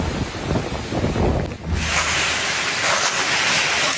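Strong Super Typhoon Uwan wind roars into the microphone in Camarines Sur, Bicol Region, with a rushing, hissing wash like heavy rain, buffeting and loud throughout, then turning into a steady hiss.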